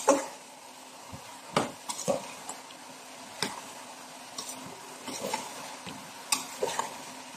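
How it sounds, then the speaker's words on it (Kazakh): Garlic and hot peppers are stirred in a frying pan for an eggplant salad: sparse, soft spatula scrapes and clicks at irregular intervals over a faint, quiet sizzle. "осыдан кейін чеснок, ащы бұрыштарымызды салып, бұны да араластырып жібереміз"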